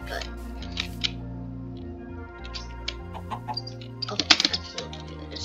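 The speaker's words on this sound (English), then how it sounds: "Hello, chicken." Minecraft chicken clucking in short repeated bursts over steady looping background music, fairly close and clear with no talking.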